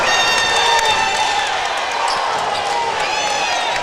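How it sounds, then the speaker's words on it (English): A crowd fills a high school basketball gym, Longview Lobos against Lancaster Tigers, with loud, sustained cheering, shouting and whistles that carry on throughout and swell in places. "You can hear the crowd."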